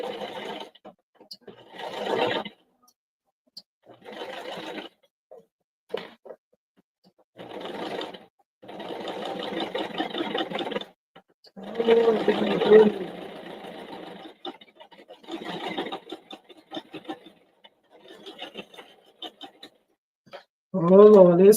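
A sewing machine stitches a knotted baby hat in short, rattling bursts separated by pauses, close and fairly loud, with someone talking in between.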